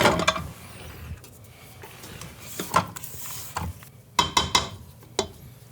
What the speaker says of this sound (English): Now we're gonna start our mixer